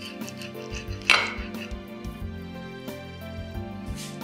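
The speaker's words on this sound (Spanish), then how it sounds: "Voy a cortar unos cortes para que se vean." A knife slices through a layered eggplant and cheese terrine with red pepper, giving one sharp clack against the board amid soft scraping and handling noises, fairly close and moderately quiet over a faint steady background.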